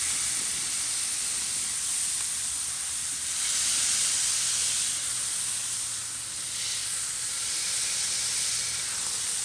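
Smash burger patties on a grill with grates, a steady close sizzling hiss that holds loud and even throughout, swelling slightly at moments with no talk.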